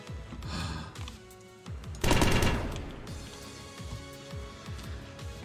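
Bursts of rapid gunfire and a loud blast sound amid a video game space battle at a battle station, with repeated short booms and crackling impacts, loud and close.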